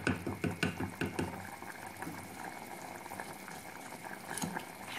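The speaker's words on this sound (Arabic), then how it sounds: "هسيبها تغلي" Pasta boils in a pot of water with a spoonful of oil, giving a steady close bubbling with a few light clicks near the start.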